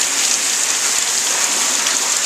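Intense shower water pours steadily onto backpacks in a side-by-side rain test of a Vulture II and a Rush 72, a loud, unbroken hiss of drumming water from start to finish with no voices.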